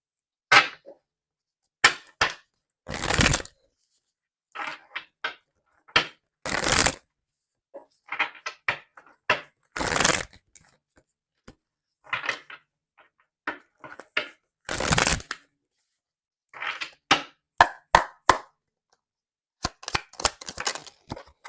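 Tarot cards are shuffled again and again, each pass a crisp riffling burst close by, broken by short silent pauses across the stretch, with no voice.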